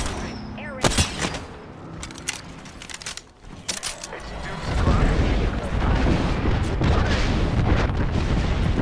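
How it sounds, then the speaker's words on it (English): A thermite grenade goes off during a video game firefight: a few sharp cracks and bangs open, then a loud, steady roaring burn takes over and continues to the end. "Thermite grenade out."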